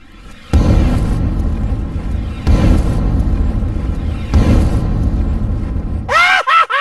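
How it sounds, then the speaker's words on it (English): Explosive traps go off in World of Warcraft, three loud, deep booms in succession, each followed by a rumbling tail, then a burst of sharp, ringing game effects at the end. "Explosive trap, one of the more ingenious things Blizzard ever did."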